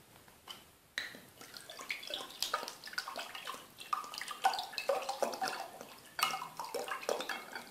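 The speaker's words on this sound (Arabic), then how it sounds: "نديرو نصو الماء." Water is poured into a heavy pot holding sugar to make orange jam syrup, a close, uneven splashing and trickling that carries on for several seconds with small knocks.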